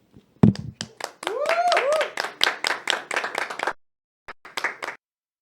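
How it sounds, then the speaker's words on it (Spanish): An audience claps a warm welcome for a new presenter on a Spanish-language Catholic talk show. The claps are close, rhythmic and distinct, with a voice ringing out over them before they taper off. "la recibimos también con un fuerte aplauso"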